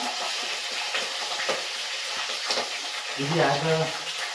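Onions sizzle steadily as they are fried and stirred in a pan during home cooking, with a continuous close hiss and a few louder stirring scrapes. A faint voice rises briefly near the end.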